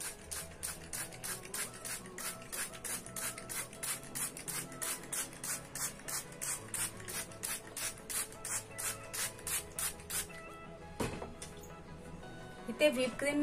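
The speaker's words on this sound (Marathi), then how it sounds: "आणि आता ह्याला वॉटर स्प्रे" A hand water sprayer mists a cut sponge cake layer for a butterscotch birthday cake, firing many quick, rhythmic spritzes one after another at close range, then a few louder handling sounds at the end.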